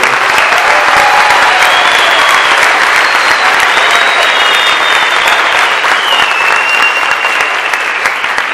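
An audience claps loudly and continuously at a stand-up comedy show, a dense sustained applause with some crowd noise, lasting the full stretch and fading slightly toward the end.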